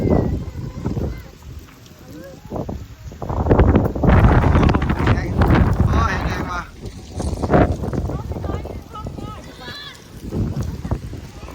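Dry wind gusts buffet the microphone outdoors, a heavy rumbling roar that swells and fades across the clip, with people talking over it.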